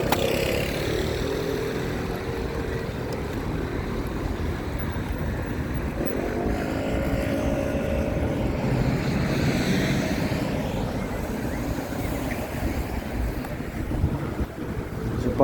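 Strong wind buffets the microphone outdoors in an emerald forest, a loud continuous rushing roar that rises and falls, with faint voices in the background.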